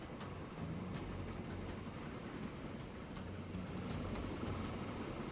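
Passenger train rolling along in the transport simulation game Transport Fever, a steady rumbling drone of wheels and engine at even loudness, with no talk.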